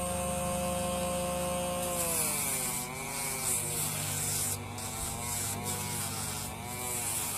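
A Dremel rotary tool grinds against fabric to distress clothing, a steady high-pitched whine with a rasping, rubbing texture that rises and falls slightly in pitch as it presses into the material.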